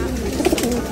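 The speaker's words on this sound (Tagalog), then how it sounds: "Merienda tayo sa mga kalapati natin, mga kamigo." Pigeons coo softly in a short burst while feeding, with a few low throaty coos close by against a light background murmur.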